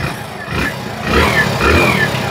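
A Hero Splendor Plus BS6 motorcycle engine runs steadily close by after an engine refit, its rumble swelling slightly as the revs rise a couple of times.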